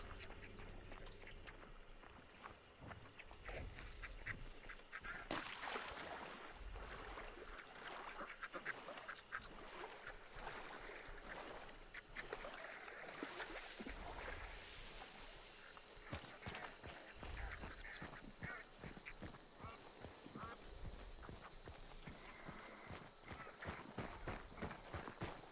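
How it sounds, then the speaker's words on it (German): Ducks quack amid the dense game soundscape of Hunt: Showdown, a busy mix of footsteps and movement with scattered calls and loud bursts throughout. "Enten."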